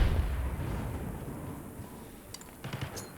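A frag grenade goes off during a Black Ops 6 hardpoint match, a low rumbling blast that fades into background gunfire, with a couple of sharp distant pops near the end.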